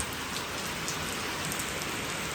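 Moderate rain falls steadily during a village thunderstorm in Pakistan, a dense even hiss of drops on surfaces with no talk or thunder in this stretch.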